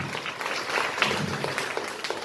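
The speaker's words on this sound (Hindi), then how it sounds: "एक सामान्य ताली बजाइए" An audience at a pre-primary education festival in Gosainganj, Lucknow, gives a short burst of ordinary clapping, dense and close.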